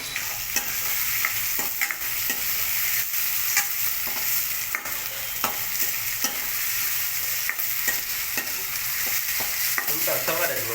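Onion and tomato frying in a pan, stirred continuously, with a loud close sizzle and repeated scraping strokes of a spoon against the pan throughout.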